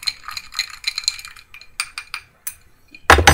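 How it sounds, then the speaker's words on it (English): A spoon stirring a glutamine drink in a glass, with rapid light clinks and rattles against the glass, then a louder clattering knock at the end. "And then I'm going to stir it up."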